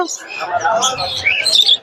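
Many caged birds chirping and tweeting at the crowded Mirpur 1 bird market, a dense close chatter of high calls with people talking underneath.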